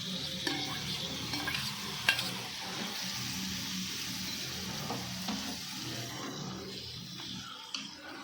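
Prawns stirred into a spicy pepper curry in a pan, a continuous sizzle with soft scraping of a spoon and occasional clinks, no voices.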